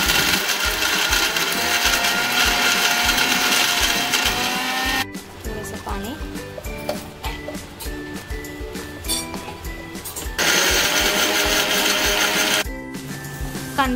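An electric mixer grinder whirs loudly and continuously, grinding a paste of onion, coconut, ginger, fennel and spices for a mutton curry; the motor drops to a lower, uneven churn in the middle before running full again.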